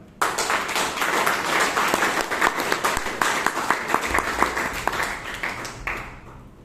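A live audience at a Bangalore Toastmasters meeting breaks into steady applause welcoming a speaker, a full round of clapping lasting several seconds before fading.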